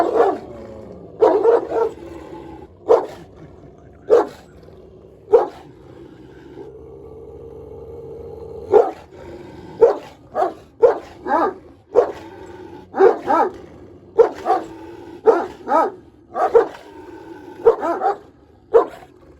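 Several Kangal dogs bark in irregular bursts, some deep and some yipping, with a short whine between volleys; loud and nearby, no talking.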